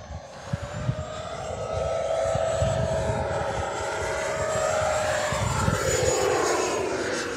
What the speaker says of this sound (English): Sounds like a literal real jet.